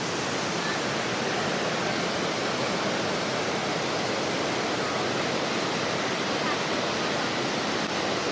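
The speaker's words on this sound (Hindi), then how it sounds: "बिल्कुल वहाँ ऊपर तक पानी गिर रहा है" A waterfall near Luang Prabang, Laos roars as a loud, dense, unbroken rush of falling water that fills the whole stretch without pause.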